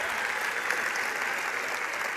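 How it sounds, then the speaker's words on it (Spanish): Steady, dense audience applause at a stand-up comedy show in a large theater, sustained clapping from a big crowd with no break, moderately loud and alone. "El aplauso para Marco, por favor."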